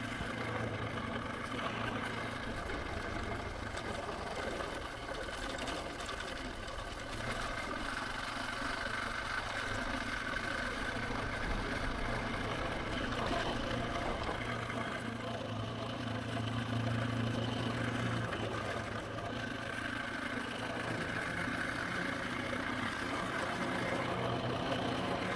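A KTM 450 EXC motorcycle cruises downhill on a country road, its engine holding a steady, moderate hum mixed with rushing wind noise throughout, with no one speaking.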